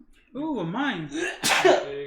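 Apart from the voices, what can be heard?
sneeze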